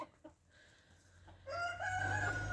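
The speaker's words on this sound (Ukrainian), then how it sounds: "О, це теж молоденькі курочки, а це теж молоденький півник" A young rooster crows among young hens on a small farm, with a faint cackle rising into a clear crow that sounds moderately close and carries no talk.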